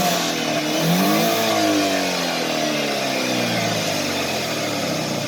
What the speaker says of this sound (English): I noticed that the exhaust was blowing